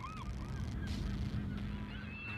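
Seabirds on Seagull Island call out with several loud honking cries over a steady background rumble, close and clear, with no talking.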